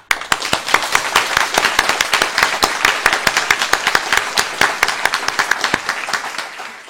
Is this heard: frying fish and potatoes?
no